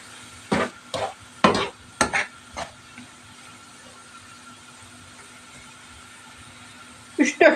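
Peach jam with sugar being stirred in a pot: a few close scraping, clattering strokes in quick succession early on, then quiet, with another short burst of stirring at the end.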